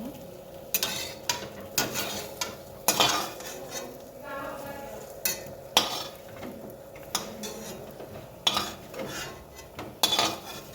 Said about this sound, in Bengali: আমি এটা এখন নামাচ্ছি। পেঁপে আর আলু হয়ে গেছে ভাজাটা মাংসের জন্য।